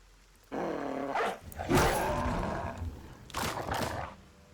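A dog growls and snarls in the Battle Brothers game, three throaty rumbling bursts close up, the middle one longest, with brief gaps of quiet between.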